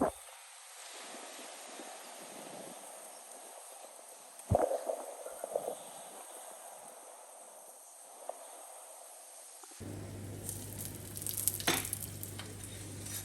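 Aloo paratha, a potato-stuffed flatbread, frying in a pan at home during a cyclone, with a steady soft sizzle throughout, a brief clatter of cookware, and a louder hissing stretch near the end.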